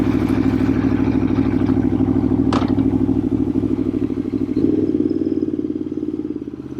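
An Aprilia Tuono motorcycle engine runs loud and close with a steady, throbbing idle, then its note shifts slightly as the bike starts to pull away.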